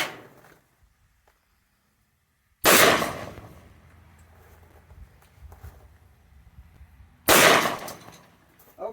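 An Emperor Mogul Ultra 20 gauge shotgun fires two loud, sharp shots several seconds apart, each followed by a decaying echo and faint handling noise, with no talking.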